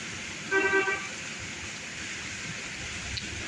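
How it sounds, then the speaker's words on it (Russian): Cars pass on a wet road in the rain in Crimea, giving a steady hiss of tyres and rainfall, with a short car horn toot near the start. "Машинки едут."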